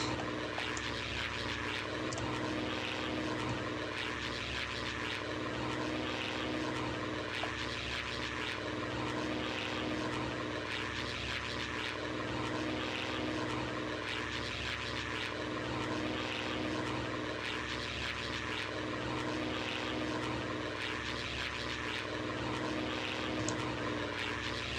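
A military propeller plane drones steadily and loudly throughout, a continuous engine roar with no break and no voices.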